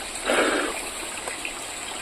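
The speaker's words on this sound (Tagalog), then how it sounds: "Ayan yung tubig, umagos galing sa taas." Water flows down over slippery rocks from higher up, a steady broadband rush with a louder surge near the start, heard close and continuous with no voices.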